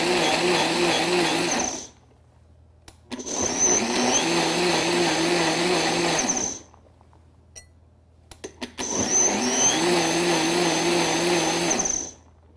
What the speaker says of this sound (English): Over to my Vitamix Bar Boss Advance. I'm going to pulse this until it's almost smooth